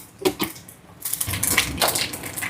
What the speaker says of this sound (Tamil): அங்கே எண்ணெய் சூடாயிட்டு கடுகு போடுறேன். இந்த கடுகு கொஞ்சம் பொரியட்டுக்கும்.